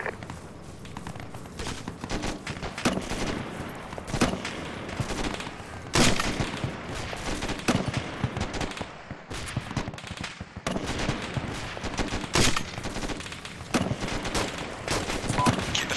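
Rapid rifle and machine-gun fire crackles during a platoon live-fire training exercise, with dense overlapping bursts continuing for the whole stretch and occasional louder individual shots, heard at close to middle distance.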